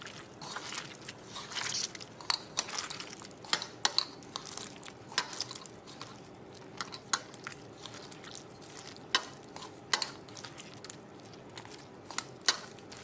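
Mashed okra bharta is worked together with mustard oil by hand, producing faint, irregular wet squelches and soft pressing sounds close by.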